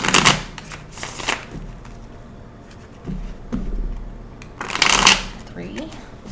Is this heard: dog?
no